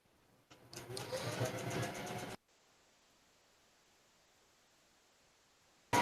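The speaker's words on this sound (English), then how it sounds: "Sounds like a sewing machine. It is a sewing machine." A sewing machine whirs in a rapid steady rhythm for about two seconds, then cuts off abruptly, leaving near silence.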